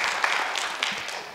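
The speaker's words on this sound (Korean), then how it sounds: "여러분 다시 한번 축하의 박수 부탁드리겠습니다." Applause from an event audience congratulating the champion of a women's golf tour championship, a steady wash of clapping that stays at an even, moderate level throughout, with no voices heard.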